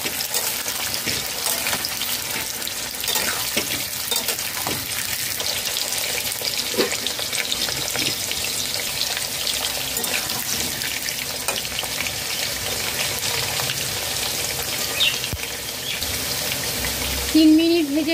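Six medium potatoes fry in hot oil over a high flame, a dense continuous sizzle and crackle that stays loud throughout, with a brief clatter near the end.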